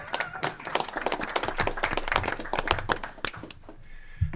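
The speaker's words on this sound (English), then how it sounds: "let's everyone give him a round of applause for his presentation" Lawmakers at a state House transportation committee hearing applaud a presentation with a burst of uneven hand claps, moderately close, that thins out and stops after a few seconds.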